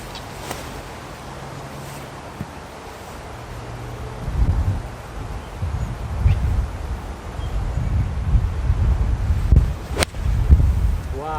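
Strong wind buffeting the microphone on a golf course, low rumbling gusts that swell and grow louder toward the end, with a few faint clicks and knocks.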